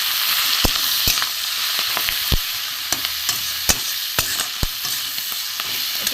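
Cauliflower leaf paste with salt and turmeric sizzling in a pan, a steady frying hiss broken by sharp scrapes and knocks of a spatula stirring at irregular intervals.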